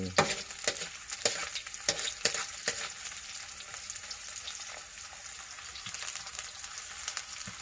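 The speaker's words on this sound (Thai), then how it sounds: "ก็มีกล้วย ดิบแล้วก็เอามาทอดอย่างนี้นะครับ" Raw banana slices frying in hot oil for banana chips, stirred in the pan: a steady close sizzle with scattered clatters of the stirring utensil, no voices.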